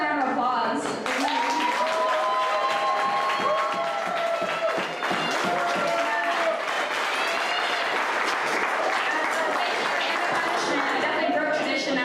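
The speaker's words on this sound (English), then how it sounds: "another round of applause." Sustained audience applause and clapping filling a room at a security meetup, loud and steady throughout, with crowd chatter and voices mixed in under the clapping.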